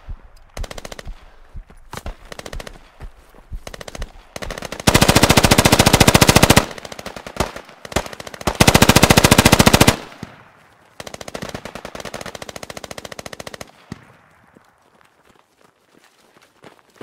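Machine gun fire in the Squad video game, long loud sustained bursts with shorter rattling volleys and scattered single shots, near and dominant throughout before fading to quiet.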